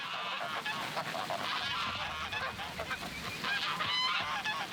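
A large flock of geese honks continuously and loudly while roaming an Albanian vineyard, the overlapping calls forming a dense, steady chorus.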